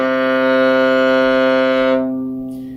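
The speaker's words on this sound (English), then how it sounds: "the lowest sound on the viola sounds like this." One long, deep bowed viola note, the instrument's lowest, held steadily and close up, warm and resonant, then released and fading out.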